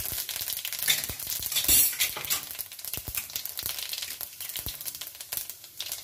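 Fennel and mustard seeds fry in hot oil, a crackling sizzle with sharp spitting pops and scattered crisp bursts close by, alone without talk.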